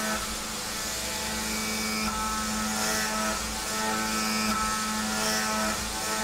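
A CNC machine cutting carabiner parts, heard as a steady close mechanical whine with a constant tonal hum that runs continuously throughout.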